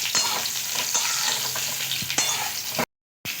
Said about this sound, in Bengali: দিয়ে নাড়াচাড়া করে খুব ভালো করে ভেজে নিচ্ছি।